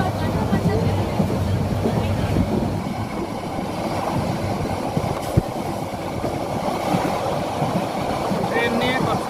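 The Cox's Bazar Express passenger train, bound from Cox's Bazar to Dhaka, rumbles and rattles continuously at a steady level, with faint voices blending into the running noise.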